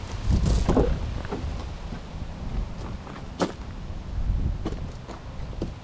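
Wind gusting across an open farm site where a Deerbusters deer fence is being wrapped, a steady broadband rush with louder swells and a few sharp flaps, with no talk over it.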